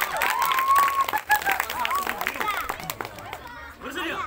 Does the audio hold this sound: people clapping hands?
yes